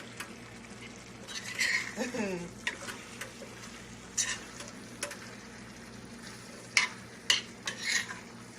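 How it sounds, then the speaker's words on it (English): A vegan meat alternative meal being mixed in a pan, soft sizzling under scattered spatula scrapes and clinks, with brief bits of talk and a few louder knocks near the end. "Just gotta mix it all in there."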